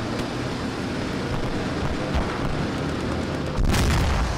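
Dense, rumbling video game tank combat noise with thudding impacts of shells hitting a Firefly tank, and a louder crashing burst near the end.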